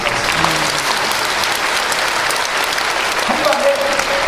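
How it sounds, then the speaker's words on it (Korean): Dense, steady applause from a church audience at a revival meeting fills the space, a continuous wash of clapping with faint crowd murmur and no pauses. "박수."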